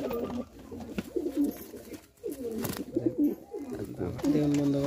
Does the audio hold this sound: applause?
no